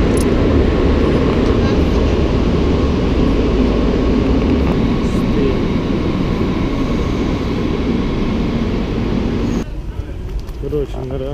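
A loud, steady rumble of a subway train running through a tunnel in Frankfurt am Main, continuous roar throughout, dropping slightly near the end.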